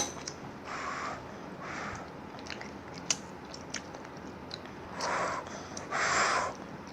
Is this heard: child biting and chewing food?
yes